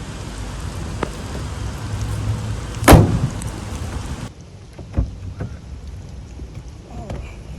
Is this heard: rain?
yes